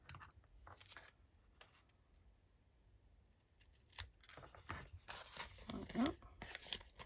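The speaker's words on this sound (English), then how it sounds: "then I can snip it and it will be even" Scissors snip through folded baking paper for a napkin envelope, a few crisp close cuts and crinkles heard beneath a person talking.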